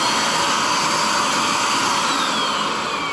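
A loud, steady mechanical roar with a high whine from an upholstery extractor machine running continuously and close by.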